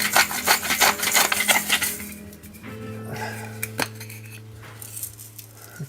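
Half a teaspoon of salt being ground by hand over flour for a smoked salmon pizza dough, a close run of fine crunching clicks and small clinks, busiest at first and then thinning to sparse ticks over a low hum.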